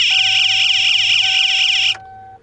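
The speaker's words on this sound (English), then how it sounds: "You can hear the alarm comes on." A car's headlight reminder buzzer blares a loud, steady, shrill electronic tone for about two seconds before cutting off abruptly, leaving a faint lingering hum.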